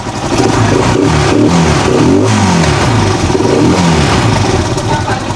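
A tuk-tuk's small engine runs steadily and loud up close, a continuous even rumble with no sputtering.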